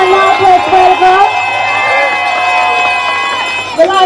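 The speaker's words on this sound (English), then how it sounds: "A round of applause for him." Crowd cheering and whooping for Jamaican Prime Minister Andrew Holness on a campaign tour in North West St Ann, a dense, loud outdoor roar held steady for about four seconds with voices mixed in.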